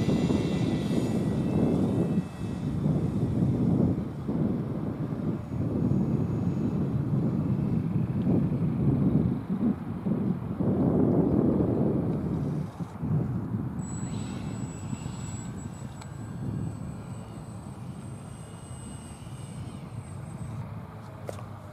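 A Pelican Poly radio-controlled model plane flies with its electric propeller motor droning steadily, fading and swelling as it passes under strong wind noise, while a thin high whine appears later in the clip.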